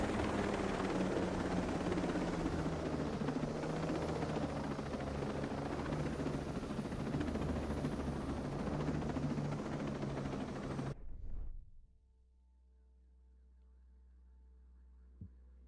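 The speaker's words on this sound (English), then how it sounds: "This helicopter is quick." A helicopter in Ghost Recon Breakpoint roars loudly and steadily with a dense rotor drone for about eleven seconds, then cuts off abruptly, leaving only a faint low hum and a single small click.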